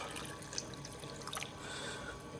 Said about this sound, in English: We add some water until it's just below the level of the top rocks.